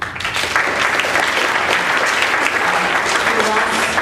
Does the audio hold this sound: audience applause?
yes